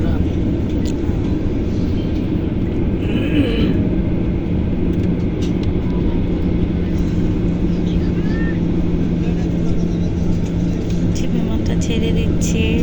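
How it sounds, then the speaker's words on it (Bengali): Inside an airplane taking off, a loud, steady cabin roar and rumble persist throughout, with voices talking faintly beneath the noise. "বিমানটা ছেড়ে দিচ্ছে।"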